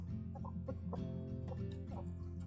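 Backyard farm chickens cluck steadily and close by, a dense overlapping chorus of short calls over a constant low hum, with no talking.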